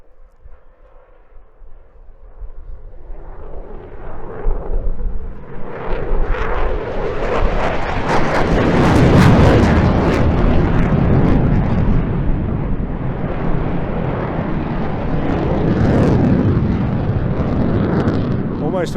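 Eurofighter Typhoon jet at the Eastbourne Airshow flying an arcing barrel roll, its engine roar swelling from a distant whine into a loud, sustained rumbling thunder that stays heavy throughout.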